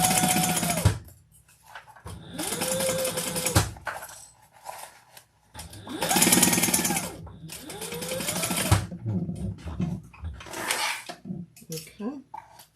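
A sewing machine stitches a training treat bag in black thread on black fabric, running in several bursts of a few seconds each, with pauses between where a person talks.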